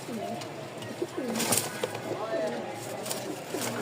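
Pigeons cooing softly and steadily at close range, a released female among a running male flock of Lotan pigeons, with a few brief sharper calls and faint background noise.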